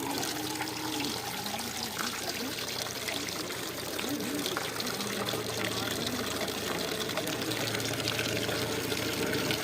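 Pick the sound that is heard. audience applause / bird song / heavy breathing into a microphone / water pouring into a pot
water pouring into a pot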